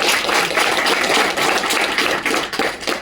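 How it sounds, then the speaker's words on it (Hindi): Audience clapping at a business plan presentation on a campus, a steady dense patter of many hands filling the room at moderate loudness throughout, with no voices over it. "बस जोरदार ताली होगा।"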